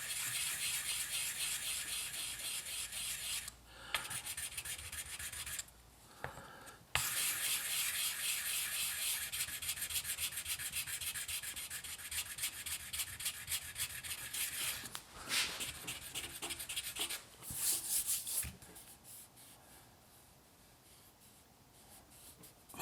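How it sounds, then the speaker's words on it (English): A tool scrapes back and forth over glue filler in a crack on a 1953 Gibson Les Paul Standard guitar, steady close rasping strokes running with brief pauses and fading near the end, no talk. "And fill in the crack and then scrape it."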